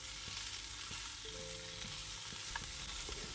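Plantain pieces stir-fried in a pan for vazhakka mezhukkupuratti as their water cooks off, giving a steady close sizzle with occasional scrapes and knocks of the stirring spoon, no talking.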